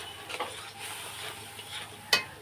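Turmeric and Kashmiri chilli powder are sautéed in a pan, with soft sizzling, a few scraping stirs of a spoon and a sharp metallic clink near the end, all close and quiet.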